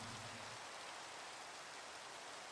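Rain falls in a Minecraft ATM7 modpack game world as a steady, faint, even hiss with no breaks.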